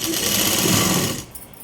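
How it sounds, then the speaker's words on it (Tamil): A sewing machine stitches a blouse sleeve in a fast, loud, close mechanical whir that runs steadily for just over a second and then stops. Nobody speaks. "பாருங்கள் எப்படி தைக்கிறேன்னு"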